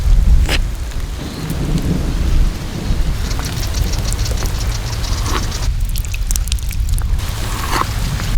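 Heavy rain pours steadily while thunder rumbles low and long, with a few sharper cracks breaking through the constant downpour.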